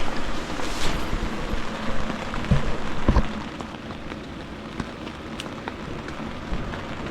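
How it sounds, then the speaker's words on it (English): Steady rain patters on an inflatable tent at a mountain winter camp during a storm, a dense, even hiss with a few sharper drop taps near the middle, with no talking. "we're gonna have to run out in the rain for this"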